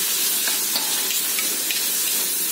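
Shallots and chillies frying in a hot pan for fried rice vermicelli, a dense, loud, continuous sizzle throughout with no talk.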